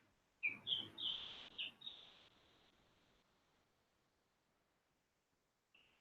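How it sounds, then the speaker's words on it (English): Several small birds give quick high chirps outdoors, a burst of four or five close together early on, then quiet, with one more faint chirp near the end. "They're just smaller birds."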